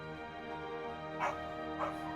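Dogs barking twice, short and somewhat distant, over a steady droning background score from Final Fantasy XIV.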